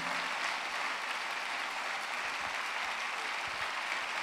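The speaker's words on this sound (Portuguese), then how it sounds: "Quantos podem aplaudir o Senhor?" Congregation applauding inside a church during a worship service, a steady, continuous wash of clapping at fairly low level throughout, with no voices over it.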